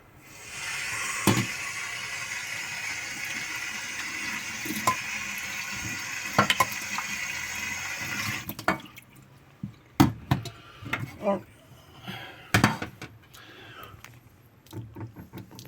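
Water rinsing a ceramic hob after scraping, a steady broad splashing wash for about eight seconds, then scattered drips, dabs and wiping clatters nearby.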